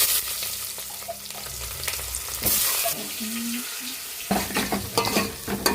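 Sliced onions frying in hot oil in a home kitchen pan for chicken tahari, a steady close sizzle with occasional stirring scrapes, louder bursts of frying noise partway through.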